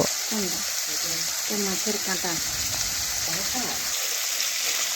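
Eggplant slices fry in a pan of hot oil with a steady, close sizzling hiss that runs the whole time, while a voice talks over it.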